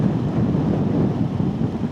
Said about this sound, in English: It's starting to get a bit windy actually.